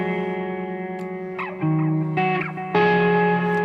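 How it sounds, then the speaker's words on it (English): Slightly overdriven electric guitar played through a Sonicake Matribox II multi-effects unit with a screamer-style overdrive engaged, sustained chords ringing out with a few changes, close and fairly loud, no talking. "Slightly overdriven, that's why the screamer is on over here."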